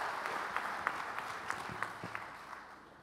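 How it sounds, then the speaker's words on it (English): Audience applause at a business summit fireside chat, a steady wash of clapping with scattered sharper claps standing out, moderately distant and tapering toward the end. "Another round of applause, that was marvelous."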